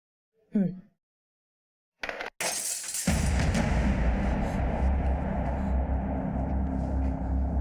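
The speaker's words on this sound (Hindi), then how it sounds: "अरे ये कांच किसने तोड़ा?" Glass breaking in an indoor drama scene: a brief voice, a moment of silence, then a sudden sharp shatter followed by a dense, loud wash of crashing and clattering noise.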